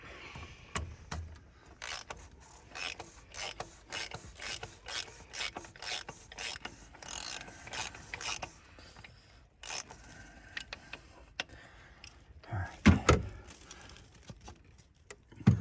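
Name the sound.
ratchet wrench removing oil filter cap on 2006 Ford F350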